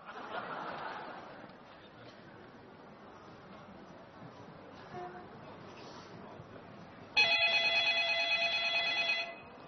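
During a stage comedy sketch, a telephone rings for a prank call, sounding in the last few seconds as a bright, steady ring. Before it, a quiet room murmur and faint laughter.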